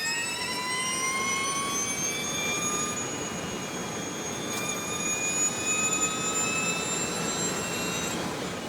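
VW ID.R electric race car lapping the Nürburgring, a high rising electric whine with sweeping pitch climbs as it accelerates past, loud and continuous over a rushing wind-like background, with no voices.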